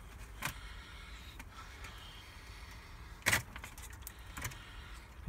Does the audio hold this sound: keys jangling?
yes